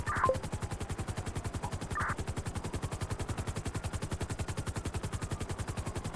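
Gunshots fired at a vehicle in GTA 5: a couple of faint sharp reports near the start and one around two seconds, over a loud steady rhythmic engine or rotor drone that fills the whole stretch.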